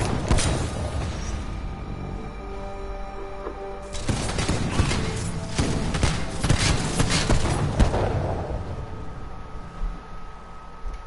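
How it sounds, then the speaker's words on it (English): Softball launcher fire in Titanfall 2 multiplayer, continuous loud barrage of blasts and explosions with dense overlapping impacts and mechanical clatter throughout. "Yep, softball launcher."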